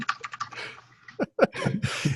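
Quick bursts of keystrokes on a computer keyboard rattle close to the microphone in short uneven runs, with brief gaps between them.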